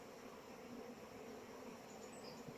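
Honeybees busy on comb in an opened hive in springtime, a faint continuous buzzing hum with no other sounds.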